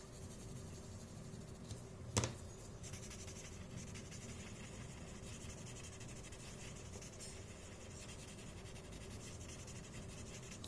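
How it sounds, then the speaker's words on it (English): Graphite pencil shades paper for a Zentangle drawing, making a faint, continuous soft scratching throughout, with one brief sharper tap early on and no voices. "So if you want, you can always add some graphite to one side."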